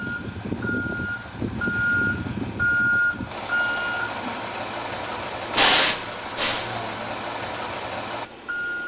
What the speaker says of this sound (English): Backing up with a trailer, such as a chipper, is far more complicated